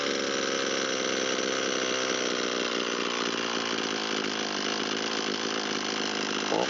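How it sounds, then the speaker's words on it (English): Echo SRM225 string trimmer's small two-stroke engine idles steadily and loudly throughout, with a buzzy, even drone and no talk. "we'll turn the idle down."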